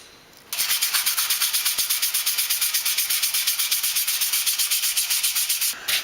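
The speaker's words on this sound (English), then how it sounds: "I'm going to use some fine sandpaper, 220 grit, to basically erase the leftover" Fine 220-grit sandpaper rubs a scroll-saw-cut wooden cat, a loud close rasp in fast, even back-and-forth strokes that runs almost continuously before stopping briefly near the end.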